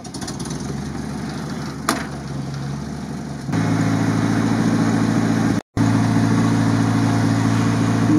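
A slow vehicle winch hauls an overturned Toyota Land Cruiser 70, with a steady mechanical drone and an engine running underneath. The drone steps up in level and cuts out briefly before resuming.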